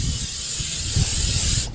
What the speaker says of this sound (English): let's give it another spray real quick